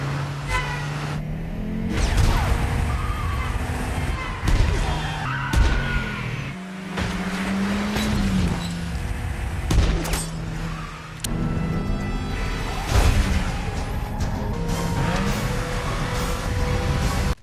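Cars in a chase scene, with engines roaring, repeated tire squeals and skids, and heavy impacts from vehicles ramming each other, loud and continuous throughout with sharp crashes scattered across it.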